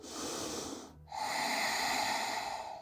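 A long, deep breath through the nose during a yoga session, heard close and loud, broken by a brief pause before a second sustained airy breath, with no talking.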